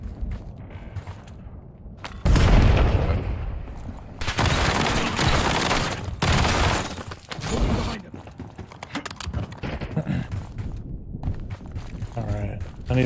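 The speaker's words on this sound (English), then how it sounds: "Enemy grenade." A grenade blast in a first-person shooter, a loud broadband burst around two seconds in followed by more heavy bursts and scattered gunfire, with people talking over the game sounds.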